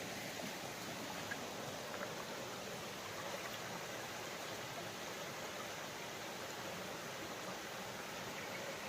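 Natural waterfall flowing at Tapoban in Dhenkanal, a forest setting, heard as a steady, faint, broadband rushing wash of water with no pauses or voices.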